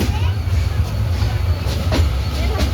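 Titumir Express intercity train standing at a station, a continuous low rumbling hum of the idling locomotive and cars with faint clanks, loud and near, with no clear voices.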